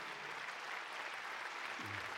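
Audience applause fills a large concert hall at an accordion concert, a steady, dense wash of clapping throughout, with a faint voice briefly audible underneath.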